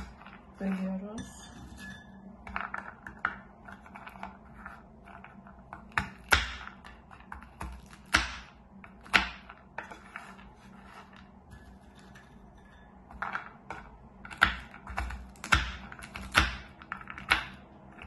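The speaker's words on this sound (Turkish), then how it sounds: "dilerseniz böyle kesme tahtası yardımıyla biraz daha ufak parçalara bölüyoruz" Walnuts are cut into smaller pieces on a cutting board as a series of scattered sharp knife taps and knocks, some in quick bursts, with quiet room tone between them.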